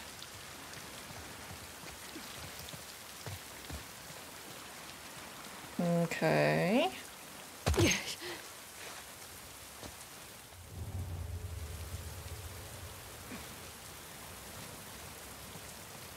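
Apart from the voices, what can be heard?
rain in a video game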